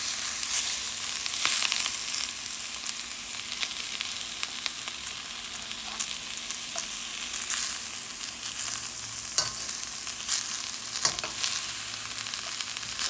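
Shrimp, about one and a half to two cups, sizzles and fries steadily in a hot pan for fried rice, a continuous crackling hiss with occasional louder pops and stirring clicks, close and without talk.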